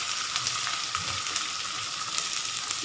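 Onions fry in hot tempering oil with seeds for puffed-rice poha, giving a steady, close, even sizzle with faint crackles throughout and no voices.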